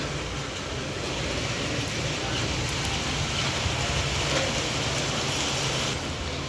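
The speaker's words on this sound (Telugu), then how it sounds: "వర్షం అయితే నాన్ స్టాప్గా పడుతుంది" Steady, nonstop rain pours down during a Dasara festival vehicle puja at home, a continuous dense hiss holding the same level throughout with no clear gaps or individual drops standing out.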